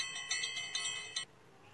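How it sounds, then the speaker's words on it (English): Three short bright bell rings come at an even pace, each with a ringing tail, clear and fairly close, followed by quiet; the tone resembles a bicycle bell in a kindergarten vocabulary lesson. "we're going to hear the sound of the bell."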